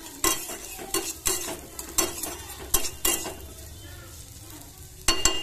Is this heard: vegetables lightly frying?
yes